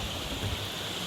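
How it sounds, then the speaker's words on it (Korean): Stream water on a mountain trail in Seoraksan, Korea, near 1000 m altitude on a hot day, rushes in a steady, broad, close hiss without pause. "물소리가 너무 좋네요."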